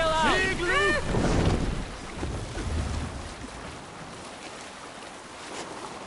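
A Viking longship sails out across open water in Assassin's Creed Valhalla, with steady wind and water wash under a short burst of voices and singing at the start.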